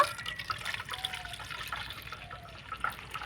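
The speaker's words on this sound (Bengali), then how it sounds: "দুধটাকে উষ্ণ গরম করে নিতে হবে তো এবার আমি একটা বাটির মধ্যে ঢেলে নেব" Warm thickened milk poured from a pot into a bowl, a soft continuous liquid trickle and splash heard close and alone, with a few faint clinks.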